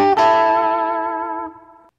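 Distorted electric guitar double stops: a single sharp pick attack after a brief lead-in, then a sustained buzzing two-note chord ringing out for over a second before cutting off.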